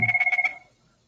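A telephone rings nearby in a rapid trilling burst of about eight pulses, loud and clear, then stops and leaves quiet.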